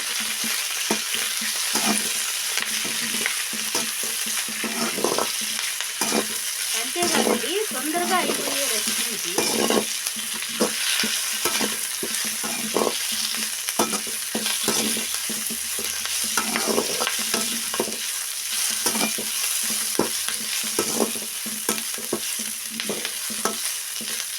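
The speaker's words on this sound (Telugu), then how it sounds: "కరేపాకు దూరంగా వేయించుకోవాలండి" Curry leaves frying in a pan, a continuous loud sizzle and crackle with frequent spatula scrapes and stirring strokes throughout, close with no speech.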